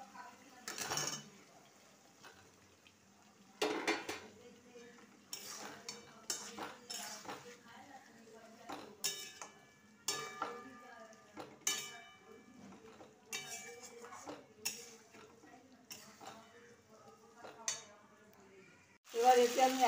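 Potatoes frying in a pan for a vegetarian aloo dum: a faint sizzle runs under repeated clinks and scrapes of a spoon against the pan, in uneven bursts across the whole stretch.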